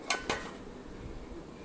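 A metal ladle in a vessel of fermented idli batter gives two quick, bright clinks close together at the start, followed by quiet, low handling noise.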